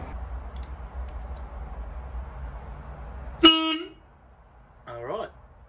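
A Leyland Atlantean bus horn gives a short, loud blast after several seconds of low rumbling background, followed by a second, weaker honk a moment later.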